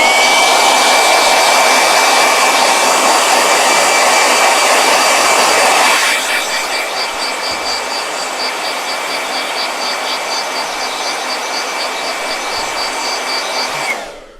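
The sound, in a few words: blow dryer running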